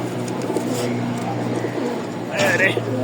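A male pigeon in breeding condition coos in low, repeated throaty rolls close by, with a brief sharper bird call near the end.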